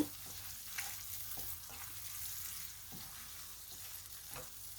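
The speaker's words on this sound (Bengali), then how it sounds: "টমেটো কুচিগুলি দিয়ে দিব। দিয়ে ভালোভাবে নেড়ে নিব।" Chopped tomatoes with spices frying in a pan, a steady close sizzle with soft scraping stir strokes at irregular intervals, no talking.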